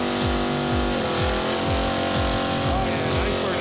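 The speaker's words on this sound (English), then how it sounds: "Oh, yeah, nice burnout." A drag racing car does a burnout, its engine roaring loud and close with rapid repeated revving pulses and tire scrub, a dense continuous blare throughout with talk beneath it.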